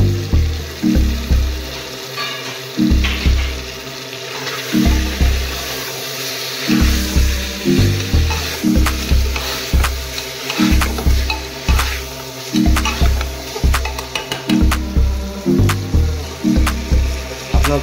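Chicken bhuna masala frying in a pan with red chilli, coriander and cumin powders, a steady sizzle under rhythmic scraping stirs that repeat roughly every second, close and loud.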